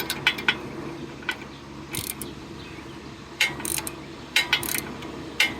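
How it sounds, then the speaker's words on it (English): An open-ended ratchet turns a sway bar link bolt on a 2013 Hyundai Santa Fe GLS, giving short bursts of quick metallic clicking with pauses between strokes, close and fairly crisp over a low background hum. "If you happen to have an open-ended ratchet, this should work."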